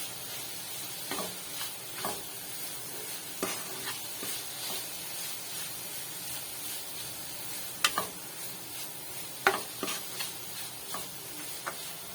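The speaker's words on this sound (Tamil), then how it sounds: "ஒரு அஞ்சு நிமிஷம் இது அப்படியே கைவிடாது கிளறிக்கிட்டே இருக்கலாம்" Red flattened rice sweet being stirred continuously in a pan, giving faint scraping strokes and occasional sharper clicks of a spoon against the pan over a low, quiet sizzle.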